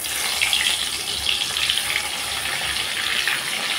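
Bitter gourd pieces fry in hot oil, a steady close hiss and sizzle that holds without a break throughout, with no talking.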